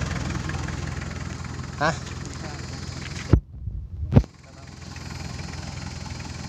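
A Toyota 1KZ diesel engine runs at a steady idle up close, drops out briefly with a couple of sharp knocks, then settles back into a quieter idle while a voice speaks briefly.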